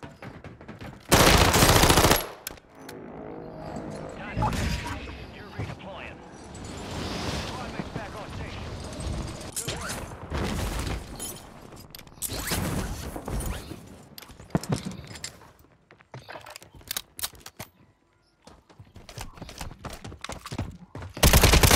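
Gunfire in a Call of Duty match, with loud bursts of automatic fire and scattered shots from several directions, some near and some distant, over ambient game noise with a player talking at times.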